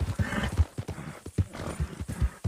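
Horse hooves clip-clop in a steady, fairly close rhythm while riding in a video game, with an occasional whinny-like sound and no talk over it.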